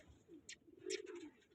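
Pigeons coo softly at a pigeon flying contest, a couple of brief, faint calls against quiet background, with no talk.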